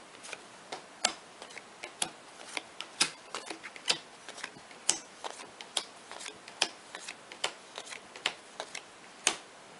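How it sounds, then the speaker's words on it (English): Playing cards dealt face down one after another onto a table, a steady run of crisp light snaps and flicks close by, with no talking. "each player is then dealt 5 cards each, face down"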